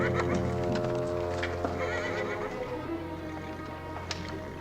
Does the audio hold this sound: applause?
no